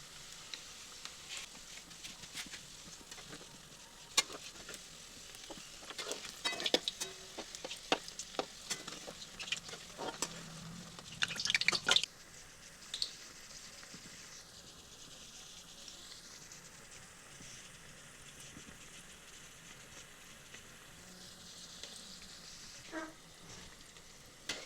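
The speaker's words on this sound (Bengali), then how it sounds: "এগুলি ভালো করে চারিদিকটি লাল লাল করে ভেজে নিচ্ছি" Egg, onion and besan snack pieces frying in hot oil until browned on all sides, a steady close crackling sizzle with bursts of louder spitting and stirring in the first half, settling to a quieter even sizzle later.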